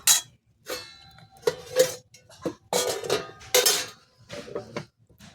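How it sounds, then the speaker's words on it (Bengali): Clattering metal knocks and clinks of cookware as a lid is set on a cooking pot, several separate sharp hits and scrapes spaced across a few seconds, close and fairly loud. "দিয়ে দেবো ঢাকা।"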